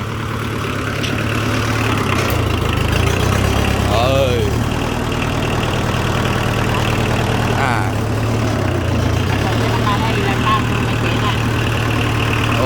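An old imported Kubota 26 hp tractor engine running close by, a loud steady low chugging drone with slight shifts in pitch as it is driven, while someone talks over it.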